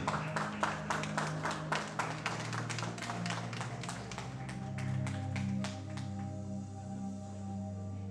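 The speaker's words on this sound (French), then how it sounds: "Vous êtes priés de vous joindre les poignets pour l'applaudir." Audience at a graduation ceremony applauding their president Emmanuel: a steady run of sharp, close claps for about six seconds, then fading into a low room hum with a faint voice.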